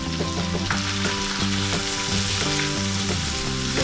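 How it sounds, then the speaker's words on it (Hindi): Ginger-garlic paste and chicken fry in oil for a Pakistani-style chicken karahi, a continuous broadband sizzle beneath steady tonal background music. "अब अदरक लहसुन का पेस्ट डालेंगे"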